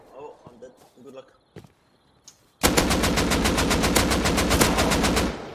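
Rapid automatic gunfire from a firearm in the survival game Rust, a loud sustained burst of closely spaced shots lasting about three seconds, following quieter talk and scattered game sounds.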